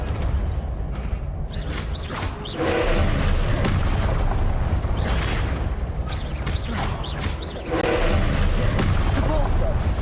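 Repeated Depulso spell casts in Hogwarts Legacy, booming whooshes with mechanical creaks, several bursts over ten seconds amid other combat spell blasts, with a voice shouting spell names over them.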